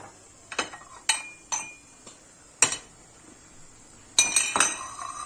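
A metal spoon stirring rice pudding clinks against a pot several times in irregular taps, close and crisp, with quiet pauses between strokes and no talking.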